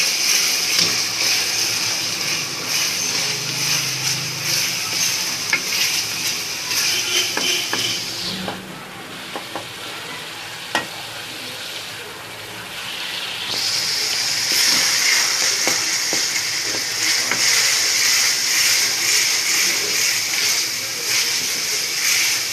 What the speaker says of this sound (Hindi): बहुत अच्छी तरह ये फ्राई हो गया है।